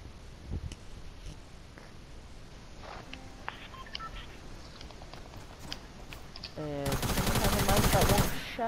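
Gunfire in Fortnite: scattered individual shots and clicks lead into a dense, loud rapid burst of automatic fire near the end, with faint talk underneath at times.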